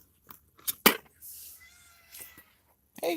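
Several short cat meows come close and fairly quiet, spaced irregularly with gaps of silence between them, one drawn-out cry in the middle.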